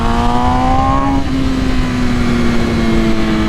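A 2021 MV Agusta Rush motorcycle with a flashed ECU tune, engine held at high revs on a dyno, a loud sustained drone whose pitch shifts slightly as the throttle changes, with no talking.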